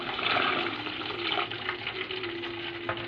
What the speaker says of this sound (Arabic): انا هزود شويه ميه بسم الله